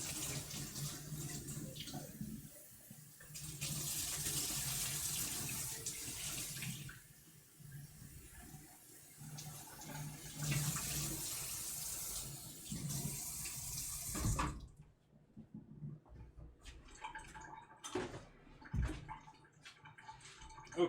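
Tap water runs steadily into a sink as a cream bottle is rinsed out in a kitchen, with the flow surging and easing before stopping, followed by a few clinks and drips.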